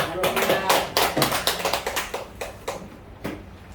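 A church congregation gathered for a Wednesday sermon claps in a short burst of sharp, separate hand claps that thin out and fade over a few seconds, with some talk underneath.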